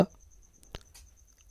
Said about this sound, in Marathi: इकडं आता रामजाच्या आईचं चालाय भेंड्या कापायचं काम